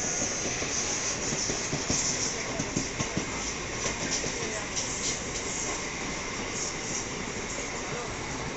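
A Western Railway fast local train running between Bandra and Dadar stations in Mumbai, with a steady, loud rumble and rail hiss throughout, plus occasional clacks from the wheels over the track joints.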